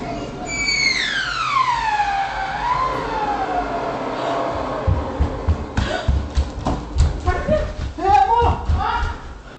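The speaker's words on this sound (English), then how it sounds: "the fire alarm finally starts sounding off" A high-pitched alarm wails in a smoky home kitchen fire, its falling sweeping tone loud at first and fading, then giving way to close, excited voices talking over it.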